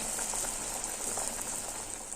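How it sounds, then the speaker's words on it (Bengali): Battered potato chops frying in oil, making a constant, even bubbling hiss with fine crackle and no voices. "সেই টুকরোগুলোর গায়ে ঠিক এই একইভাবে ব্যাটার মাখিয়ে তেলে দিয়ে আলুর চপ ভেজে নেব।"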